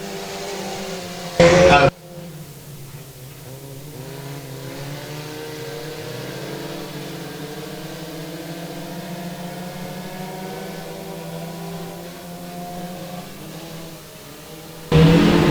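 Four-cylinder race cars run a heat at Boothill Speedway, a steady engine drone rising and falling through the clip, with a brief loud burst near the start and another at the end.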